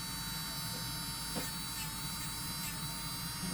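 An ECBASKET 30000RPM electric nail drill runs at speed, a continuous close buzzing whine with steady hum beneath, unbroken and fairly faint throughout.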